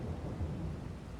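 Rain with rumbling thunder in the Farming Simulator 22 farming game at the end of a harvest, a steady low roar of rainfall and distant thunder filling the short stretch without any voices.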